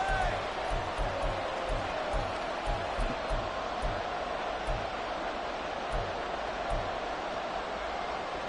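Football stadium crowd at a game near the goal line, a dense sustained roar of cheering and noise spread throughout, with rhythmic low thumps underneath.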